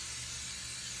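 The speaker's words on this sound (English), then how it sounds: "spray every single square good." Cooking spray hisses steadily onto a hot waffle iron, one short, even, close burst of spray with nothing else heard.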